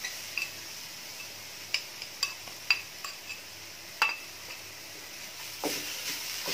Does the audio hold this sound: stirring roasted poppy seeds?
yes